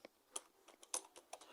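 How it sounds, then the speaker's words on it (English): Quiet, close keystrokes on a computer keyboard, a quick irregular run of light clicks spaced a fraction of a second apart. "let me type in some content there"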